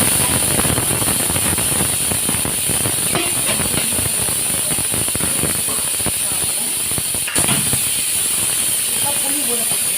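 A pressure cooker of boiling potatoes vents steam in a loud, continuous near hiss for the whole stretch, with a high whistling tone running steadily over it.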